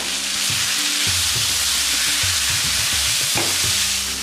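Soft paneer pieces stir-fried in a pan for a pepper fry, a loud continuous sizzle broken by repeated scraping strokes of a spatula.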